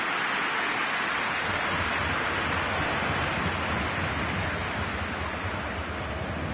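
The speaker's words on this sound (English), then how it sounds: "Just starting to get the first signs of rain here." Steady rain falls at a football stadium during a Bayern Munich versus Real Madrid match, a continuous broadband hiss at moderate level with no talk or distinct events.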